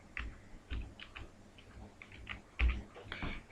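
Keys clatter on a computer keyboard as a word is typed into a Google Forms option field, giving a quick irregular run of soft clicks with a louder tap near the end, close by and with no talk.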